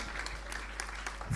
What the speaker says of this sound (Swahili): Makofi kwake tena.